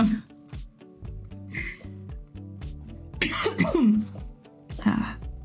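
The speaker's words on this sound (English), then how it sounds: "Sorry about the coughing." Someone coughs and clears their throat in harsh bursts over soft background music, the coughs growing louder toward the end.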